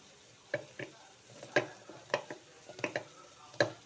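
Onion being stirred and fried in a pan gives quiet, irregular scraping strokes, about a dozen spread over a few seconds, against a soft background.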